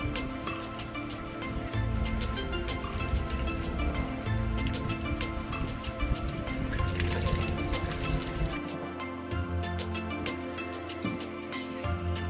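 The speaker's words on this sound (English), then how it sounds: "Wash clean the pieces from any dirt." Bone pieces are rinsed in water, producing a continuous splashing, trickling wash with dripping and sloshing that stays close and fairly steady, then thins toward the end.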